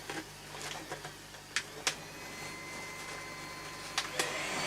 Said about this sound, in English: So if it sounds like there's a vacuum cleaner running, it's because I've got this thing on the suit.